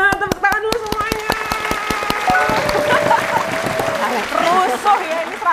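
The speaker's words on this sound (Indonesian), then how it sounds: "Tepuk tangan dulu semuanya" A roomful of about a hundred people at an indoor beauty event clapping, the claps fast and close, with excited cheering voices rising over them.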